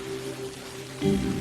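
Steady rain patters on a surface through a dramatized night scene, a constant soft hiss with a low rumble swelling near the end, with no voices.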